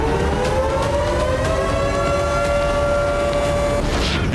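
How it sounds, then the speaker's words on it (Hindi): An air raid alert siren wails over Kyiv during a Russian attack, a loud sustained tone holding steady for several seconds before cutting off, with a faint rushing background beneath it. "कीव में कई घंटों तक अलर्ट अलार्म बजता रहा।"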